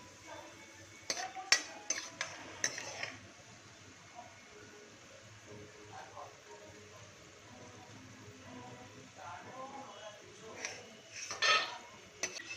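Fried peanuts being lifted out of hot oil in a pan with a utensil, giving sharp metallic clinks and scrapes early and late over a faint, steady sizzle.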